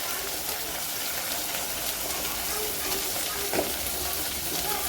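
Finely chopped tomatoes sautéing in hot tempering for shev bhaji, a steady broad sizzle with a watery hiss and a faint stir, even and close with no talk.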